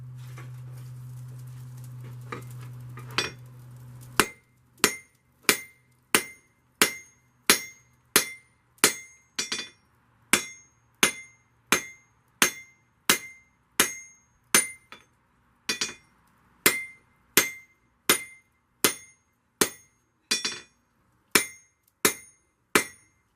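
A hammer strikes an anvil again and again in a steady, ringing rhythm, each blow sharp and metallic, after a brief low hum at the start.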